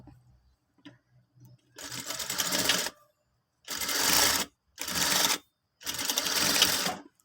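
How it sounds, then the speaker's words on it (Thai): A sewing machine stitching trousers runs in four rapid bursts of needle clatter separated by short pauses, close and clear after a few quiet taps. "จะเย็บนะคะ เผื่อเย็บอยู่ที่ประมาณครึ่งนิ้ว"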